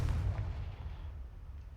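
In Hogwarts Legacy, the Confringo spell sets off a deep, rumbling explosion that begins strongly and fades into a low, sustained roar lasting a couple of seconds.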